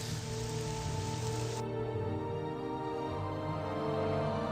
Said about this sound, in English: this is quite bad rain, but at least it's not ash